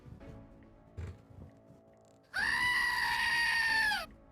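A person imitates a goat scream with one loud, sustained nasal bleat lasting under two seconds, preceded by soft thumps and faint background noise.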